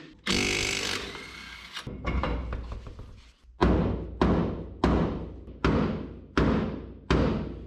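Hard metallic banging on a Model A car part, a ragged opening clatter followed by five evenly spaced heavy blows, each a loud sharp strike with a ringing decay, close up and with no talk.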